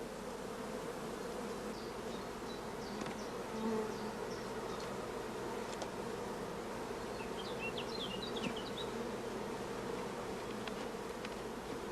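Honey bees buzzing around hive frames during queen cell rearing, a dense continuous hum of many bees close by, with a few brief sharper buzzes passing near.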